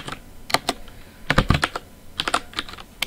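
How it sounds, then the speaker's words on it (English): Git commands being typed on a computer keyboard, with close, crisp clusters of keystrokes in uneven bursts separated by short pauses and no talking. "If I can type"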